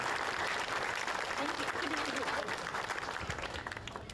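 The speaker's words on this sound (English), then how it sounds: "A round of applause." An outdoor crowd at an elementary school ribbon-cutting ceremony claps steadily for the arriving mayor, a dense wash of applause that slowly tapers off.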